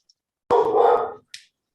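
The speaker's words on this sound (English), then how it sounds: "Excuse my dog barking." A single loud, close dog bark, followed by a brief faint click, with silence before and after.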